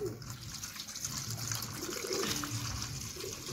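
Water pours steadily into an outdoor plate set out for pigeons, a continuous splashing rush that fills the whole moment at close range with no talk.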